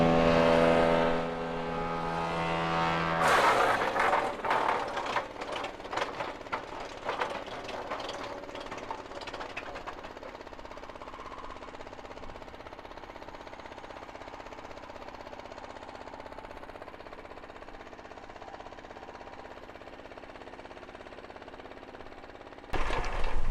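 A SPLIT-FIRE 4090 wood chipper jams on wood and shuts itself off, a loud grinding crunch with rapid knocking that gives way to a long steady mechanical drone as the rotor winds down.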